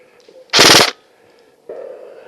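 An airsoft gun firing BBs outdoors in a wooded field: one loud, sharp burst of rapid shots lasting about a third of a second, then quiet, followed by a faint hum of background activity.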